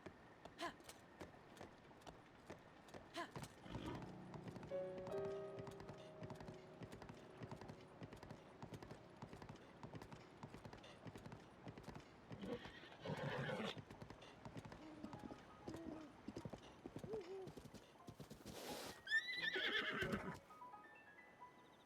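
Horse hooves clip-clopping in a steady run in the Breath of the Wild game, with a couple of loud neighs and whinnies toward the end, up close with no talk.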